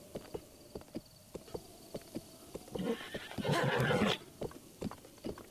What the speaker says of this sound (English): I got a wild horse.